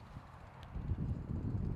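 A headwind buffeting the microphone outdoors during a disc golf throw, a low rumbling gust that swells about halfway through and stays loud, with faint rustling underneath.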